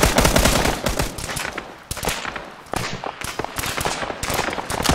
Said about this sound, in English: Just hearing direct fire from the north